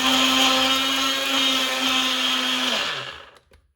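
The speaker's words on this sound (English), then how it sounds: "as you can see, I've got it all in the NutriBullet." A NutriBullet blender grinds dehydrated garlic into powder with a loud, steady high-pitched whir up close, then winds down and stops.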